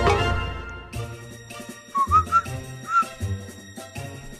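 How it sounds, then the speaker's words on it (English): A video game character whistles a short melodic tune over a bouncy game soundtrack, the clear whistled notes rising and falling in quick phrases in the middle. "No, Colorful Arty, you're not allowed to whistle."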